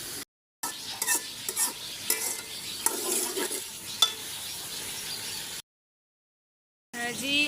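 Food frying in a pan ahead of adding potatoes: a steady sizzle with frequent spoon scrapes and clinks, cut by brief gaps of silence, and a short bit of other sound at the end.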